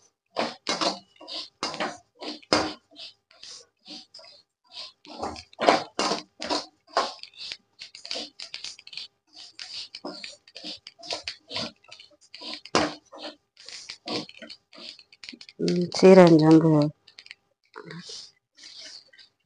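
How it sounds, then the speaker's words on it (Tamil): Cumin and fennel seeds dry-roasting in a pan while being made into mutton masala powder: a steady scatter of small, sharp crackling pops close by, with a voice talking at intervals over them. "சீரகம் சோம்பு பொரிஞ்சா போதும். சத்தம் கேட்குது, பொரிஞ்சா போதும்."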